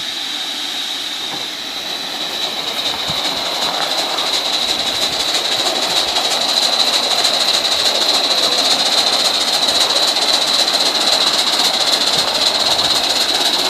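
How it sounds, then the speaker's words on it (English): A Gauge 3 live steam Atlantic model locomotive works under load, giving a steady, fast, loud run of chuffing with a constant high hiss and rail noise throughout, with no talk. "give it a bit of work so you can listen to the chuff a bit more"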